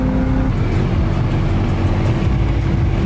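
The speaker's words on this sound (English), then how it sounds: "Homie just punched the gas in." A car engine revs hard and surges as the driver floors the throttle at a Cars and Coffee meet, a loud, steady roar with busy low rumble throughout.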